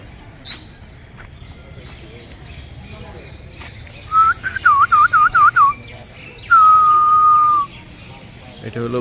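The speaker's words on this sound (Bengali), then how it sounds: "অনেকদিন পাখির একটু কলরব শোনা গেলো" Birds call at Alipur Zoo in Kolkata: a quick run of warbling, rising-and-falling notes is followed by one long, steady whistled call. Both ring clearly over a low, murmuring outdoor background.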